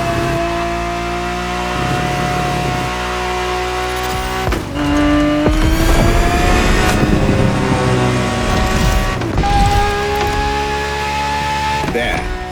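Ferrari 365 GTB4 from the 1970s racing in The Crew Motorfest, its engine droning steadily and loud with rising and falling pitch through gear changes, plus occasional tire squeal.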